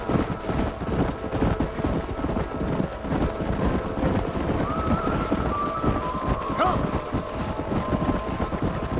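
Horse hooves clip-clop steadily in Red Dead Redemption, a rhythmic run of galloping hoofbeats over a rough outdoor bed with wind, fairly close and continuous, with no speech on top.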